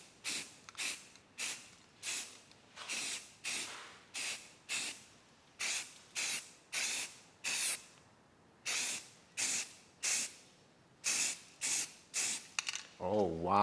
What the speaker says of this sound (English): Looks like I'm respraying big ass chunks.